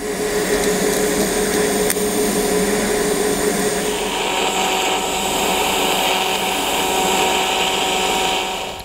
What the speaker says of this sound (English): what I'll do first is weld a side bracket on that it'll be supported by